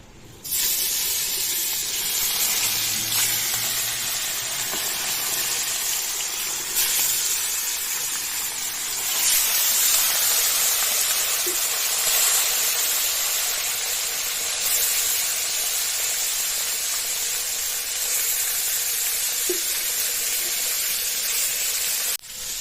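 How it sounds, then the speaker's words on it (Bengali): Spice-marinated fish frying in hot oil gives a loud, steady, close hiss and sizzle that runs unbroken for over twenty seconds, with occasional small pops and no talking. "তেলটা কিন্তু খুব ভালোভাবে গরম হয়ে গেছে। এবার দিয়ে দিব এই মাখিয়ে রাখা মাছ।"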